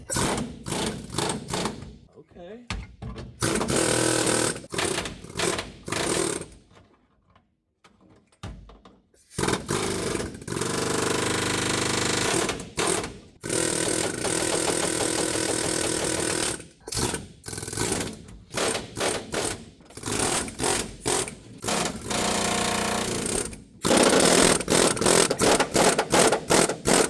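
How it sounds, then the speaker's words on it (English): Rapid mechanical hammering of an air hammer on the body metal of a 1964 Plymouth Fury chatters in long bursts, broken by short pauses and one longer gap, with a brief spoken word between bursts. "Let's see what happens if we gently air hammer."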